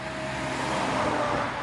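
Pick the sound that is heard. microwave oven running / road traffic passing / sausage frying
road traffic passing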